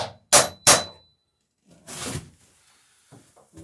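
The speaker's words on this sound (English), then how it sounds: "Get 1 or 2 more whacks just to be sure" Two sharp, loud hammer whacks land on a wooden plank of an Alpha Dory boat under construction, followed by quieter knocking and handling sounds.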